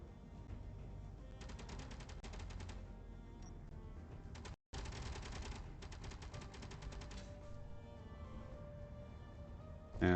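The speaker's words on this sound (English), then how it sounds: "someone has met the wrath of our wicked cannon systems" Defensive cannon turrets in the game Space Engineers fire in two long, rapid rattling bursts of repeated shots, split by a brief silence and set over a low steady background. The firing is fairly quiet, and no one speaks.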